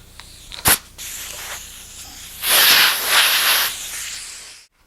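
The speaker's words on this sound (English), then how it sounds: "it's important to blow the dust off" Someone blows dust off a surface: a sharp, close puff of breath, then a longer hissing blow that swells, wavers and cuts off into silence.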